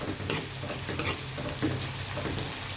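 Onions frying in a pan as the base for dal, a steady close sizzle with soft stirring scrapes and small pops, no voices over it.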